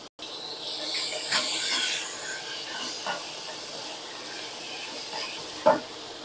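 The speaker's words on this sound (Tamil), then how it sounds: "உருளைக்கிழங்கு கேரட் போட்டு நல்லா வதங்கணும்" Potatoes and carrots sautéing in a pan give a steady soft hiss, with a few faint knocks and one sharper clink near the end.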